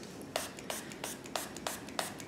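Spray bottle misting rubbing alcohol onto a tie-dye fabric mask, giving six short, evenly spaced hissing bursts at close range over a quiet room.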